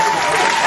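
A short burst of canned crowd applause, triggered from a sound-effect button, plays loud and dense for under a second.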